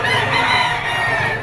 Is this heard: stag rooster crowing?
yes